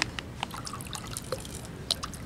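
Water trickles and drips into a container with a little dirt, light splashy patters and small drops over a soft steady pour, close and fairly quiet.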